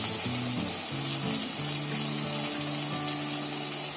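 Fried potatoes sizzle steadily in a pan of spices, a close, even crackle of frying with faint stirring and no voices.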